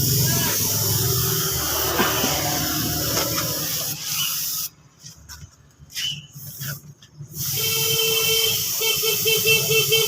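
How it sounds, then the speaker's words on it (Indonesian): Black matte spray paint hisses from an aerosol can onto Honda Vario motorcycle parts in thin coats, loud and steady, then broken into a few short close bursts before a continuous spray resumes. "Kita semproti tipis-tipis saja seperti ini."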